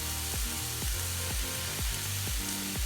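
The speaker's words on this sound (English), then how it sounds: "we're gonna throw them in the pan and start to saute them" Chopped mushrooms sauté in olive oil in a pan, a soft continuous sizzle with a regular series of low thuds as they are tossed or stirred, fairly quiet and close.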